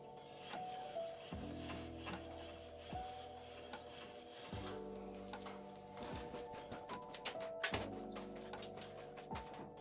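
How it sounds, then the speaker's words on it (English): A small bristle brush scrubs a part of an old Fairbanks Morse Eclipse hit-and-miss engine in repeated close rasping strokes, steady rhythmic scratching over a faint background hum. "Just gonna take this little bristle brush,"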